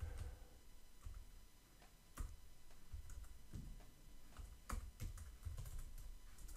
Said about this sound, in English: this is my keyboard not working properly